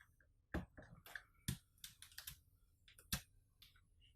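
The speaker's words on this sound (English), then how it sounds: "I'm going to remove a keycap." Sharp clicks and snaps of a keycap being pried off a Ducky One 2 Mini 60% mechanical keyboard with a keycap puller, fitted with double-shot PBT keycaps; several distinct close clicks at uneven intervals, no talking.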